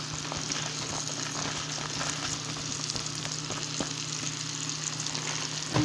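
Caramel apple sauce simmering down in a pan gives a steady, close sizzle with fine crackling and an occasional stir or clink, heard alone without voices.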